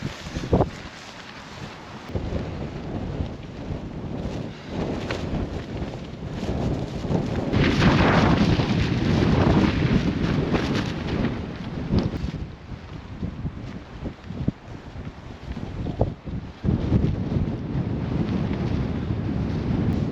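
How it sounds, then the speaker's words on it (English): Strong wind of about 20 miles per hour buffets and roars across the microphone continuously around a Nortent Lavvo 4 tent, gusting louder in the middle, with occasional sharp thumps and flapping noises. "In this 20-mile-an-hour wind"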